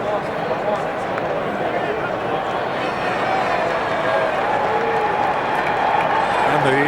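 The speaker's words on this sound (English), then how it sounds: "the Cub fans cheer every time they put that Pittsburgh victory on the scoreboard" Cubs fans cheering at the ballpark in 1989, a broad crowd roar sustained in the background beneath ongoing voices.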